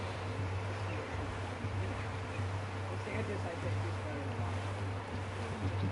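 A sailing ship on open sea waves in the video game Assassin's Creed Black Flag, with a steady, close wash of water and wind rushing continuously beneath voices talking.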